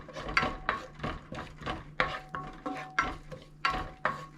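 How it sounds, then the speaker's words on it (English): Sliced garlic in about a teaspoon of oil for a cucumber stir-fry, heard as a rhythmic series of about nine clattering stir strokes with a spatula against the pan over a low sizzle, close and moderately loud. "It's about a teaspoon of oil. Put in the sliced garlic."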